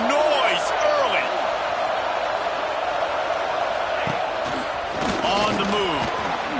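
Stadium crowd in the NCAA 26 college football video game roars steadily from start to finish, a dense wall of loud noise with brief chants and shouts rising above it.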